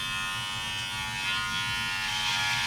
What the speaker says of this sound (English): using my clipper, I'm going to just trim the hair slightly